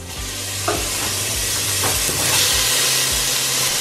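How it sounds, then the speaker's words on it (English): Tomatoes go into a pan of frying shallots and garlic for Vietnamese bun rieu crab soup, setting off a loud, steady sizzle and hiss with several scraping stirs underneath. "Now that the shallots and the garlic has like a fragrance to it, you're going to add the tomatoes."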